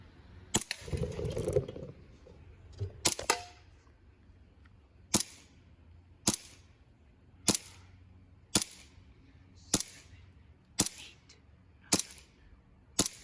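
Airsoft pistol shots at targets, an Elite Force 1911 TAC or G&G GPM92 GP2: about nine sharp, evenly spaced cracks, each about a second apart, after a brief clatter of handling at the start.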